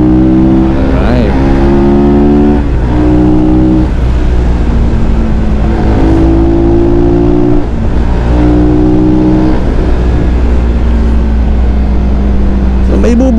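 A Rusi Flash 150X fuel-injected 150cc motorcycle engine revs loudly up close. The rising and falling pitch repeats through several pulls, with a rider talking in the background.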